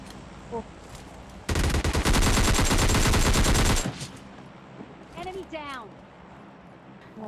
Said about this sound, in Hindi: अब यहाँ पर थोड़े बहुत फायर शॉट के साउंड आते हैं, जो कि सेंटर रोड की तरफ से आ रहे थे